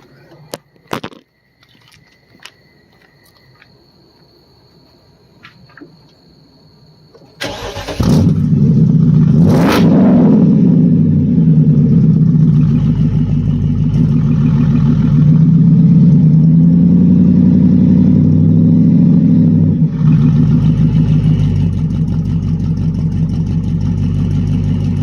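A 2009 BMW 750Li with its exhaust resonators removed starts after some quiet handling noise, then roars loud and close, swelling through a sharp rev before settling into a deep, steady rumble that rises again near the end.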